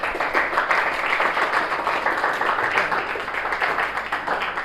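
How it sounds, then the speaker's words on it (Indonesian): A classroom of students applauds at the end of a school lesson, a dense, steady patter of many hands clapping close by for several seconds with no break. "tepuk tangan dulu untuk hari ini"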